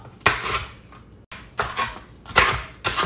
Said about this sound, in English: Chop.